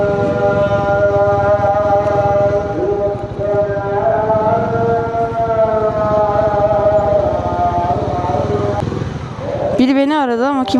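A loud, drawn-out wavering funeral call (sela) from a mosque loudspeaker, melismatic and siren-like, fills the clip, with a closer warbling voice breaking in near the end.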